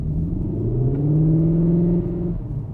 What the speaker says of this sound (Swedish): Det låter som de försöker simulera en V8.